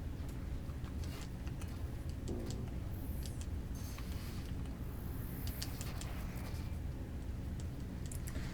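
Bird enemies in Final Fantasy XI coo softly amid steady game ambience and clicky interface ticks, with a faint tone sweeping high partway through; no speech over it.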